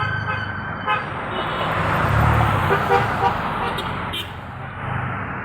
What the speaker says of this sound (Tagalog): National Highway, naghihintay ng bus